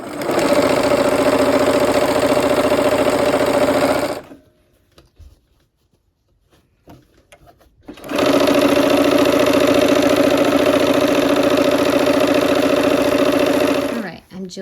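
Sewing machine stitching quilt blocks with sashing together in rows, a steady mechanical whirring that runs for about four seconds, pauses into near silence with faint handling sounds, then resumes for six more seconds before stopping.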